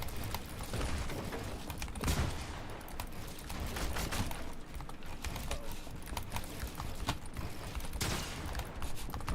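Rapid bursts of gunfire in the video game Fortnite, dense and repeated throughout against busy game sound, with no talk.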